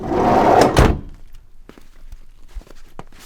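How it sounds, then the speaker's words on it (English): A van door with worn bearings opening or closing in snowy winter weather in western Montana, one loud scraping thud in the first second, followed by faint clicks and knocks. "Your bearings need to be replaced in your door."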